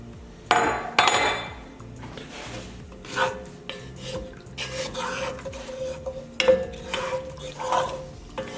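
A spoon scrapes and clinks around a pot of ribeye steak stroganoff gravy with mushrooms, giving close, irregular scraping strokes and occasional sharper knocks against the metal, with no talking.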